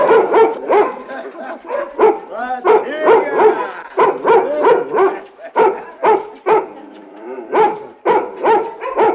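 A bearded, mustached female dog barks repeatedly in short, loud, close bursts, mixed with yips and whimpers, in an old Russian film scene, with voices also heard.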